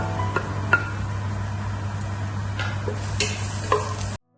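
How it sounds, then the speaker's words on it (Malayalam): Chopped ginger and garlic frying in a pan, a continuous sizzle under a low steady hum, punctuated by several sharp clicks and scrapes of a stirring utensil. "നെക്സ്റ്റ് ഇതിലേക്ക് ഇഞ്ചി വെളുത്തുള്ളി ചോപ്പ് ചെയ്തത് ആഡ് ചെയ്യാണ്"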